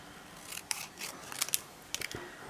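Scissors cutting paper close by, a series of crisp snips in irregular clusters, fairly quiet, with no talk.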